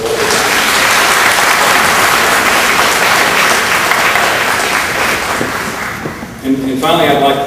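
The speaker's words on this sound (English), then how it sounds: "let's give our family a round of applause" Loud, sustained applause from a large audience at a college of pharmacy graduation ceremony fills the room, with scattered voices mixed in, tapering briefly near the end before a final swell.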